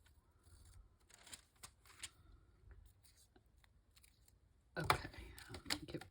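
Scissors with glue-stick-coated blades trim paper in a mixed media journal, making quiet close snips and paper rustles, then a louder burst of crinkly paper handling near the end.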